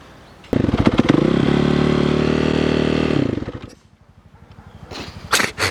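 A motocross motorcycle engine fires up close by, runs at a steady, loud idle for about three seconds, then sputters and stalls, leaving near-silence before faint restarting sounds and knocks.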